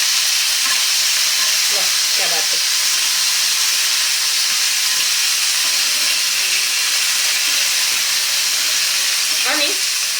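Cluster beans (guar) sautéing in hot oil, giving a loud, continuous sizzling hiss close up, with a few faint scrapes of stirring breaking through the steady frying noise.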